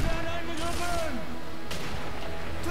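Sniper Elite V2 gunfire cracks out in a couple of sharp reports amid busy game sound, with a burst of impacts near the start and more shots later, loud and close.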